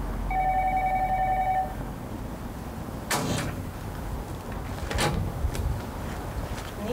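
A house doorbell rings with a steady electronic tone in the opening two seconds, followed by a few sharp knocks or clatters in a quiet room.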